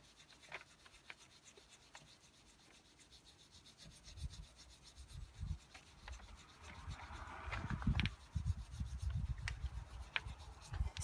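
Steel wool rubs over a car wheel rim in a steady, faint scratchy scrubbing that grows louder and quicker toward the end, heard up close with no talking.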